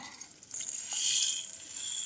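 Lentil fritters (dal bara) fry in oil while a spatula gently presses them, giving a moderate, hissing sizzle that swells midway and then settles.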